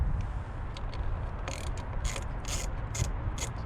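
Loosening the negative battery terminal on a 2014 Toyota Corolla: a series of quick, light ratcheting clicks from a hand tool in short bursts, fairly close, over a low background hum with no talk.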